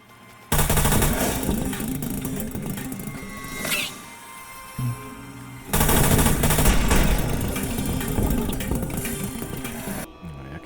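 Rifle gunfire in Fallout New Vegas, a special rifle firing loud sustained bursts of rapid shots, broken by a short lull in the middle before the firing resumes.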